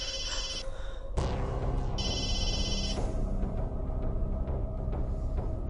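A telephone rings in repeated electronic trills, two bursts about a second long separated by a pause. It sounds moderately close over a continuous low background rumble.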